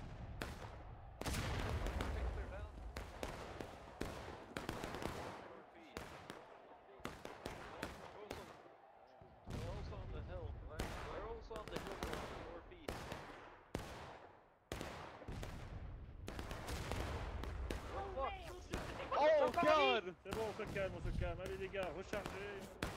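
Repeated booming cannon blasts and gunfire in a War of Rights battle on the School House Ridge map, some close and heavy, others distant, under ongoing talk.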